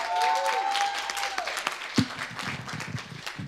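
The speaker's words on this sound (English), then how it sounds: "you guys should clap it up for yourselves because you are the inaugural class." An indoor orientation audience claps in a short burst of scattered applause, a brief sustained tone fading out at the start and a few louder individual claps toward the end.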